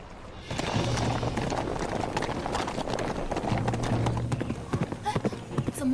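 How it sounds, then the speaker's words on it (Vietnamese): Horse hooves clip-clop steadily on a path in a deep forest, a continuous rhythmic patter running under other noise and talk, then thinning out toward the end as the horse stops. "Ngựa không chạy được nữa."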